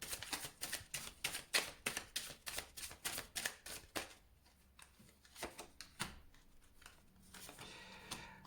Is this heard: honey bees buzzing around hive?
no